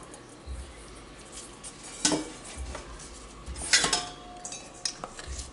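A flour mixture is folded into chocolate brownie batter, heard as soft scraping with a few sharp clinks of a utensil against the bowl, close and irregular.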